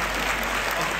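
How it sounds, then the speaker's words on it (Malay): An audience at an Amway business program gives a round of applause for a Dato', a dense, steady burst of clapping that fills the brief moment. "Satu tepukan untuk Dato'."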